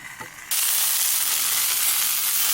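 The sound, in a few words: sausage and peppers frying in a pan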